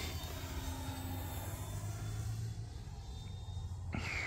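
An FMS Zero 1400mm RC warbird airplane flies past at about three-quarter throttle, its faint electric motor whine drifting at a distance over outdoor background noise, with no one talking.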